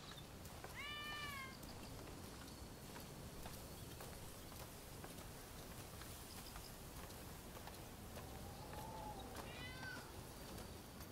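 A cat meows in the video game Rise of the Ronin, two clear meows some seconds apart over a steady ambient game background, with a faint higher cry between them.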